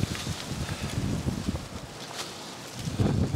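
Cold wind blows across a hiking trail in Shawnee Mission Park, rushing and buffeting the microphone with gusty, rustling noise that swells and eases throughout.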